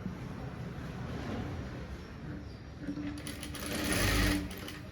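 A sewing machine runs steadily while stitching the edge of a blouse, a soft, even mechanical whir that swells and grows louder near the end, with a faint low hum beneath.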